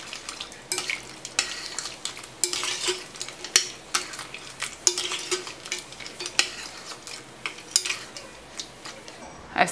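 Goat stew in a pot with tomato paste being stirred in, a stream of irregular spoon scrapes and clinks against the pot over a light sizzle.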